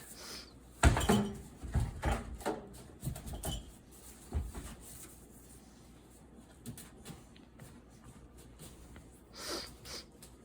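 A hard knife cuts into a fresh pumpkin with a cluster of sharp cracks, thuds and scraping crunches, then falls to softer, scattered creaks and a few late scrapes. The sounds are close and fairly quiet.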